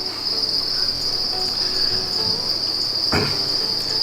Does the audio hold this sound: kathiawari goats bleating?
no